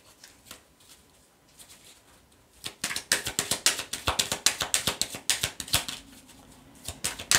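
Tarot cards are shuffled close up, starting with soft scattered flicks and then building into a loud, rapid run of crisp riffling clicks that continues to the end.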